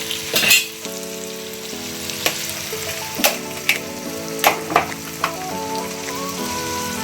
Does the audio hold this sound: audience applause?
no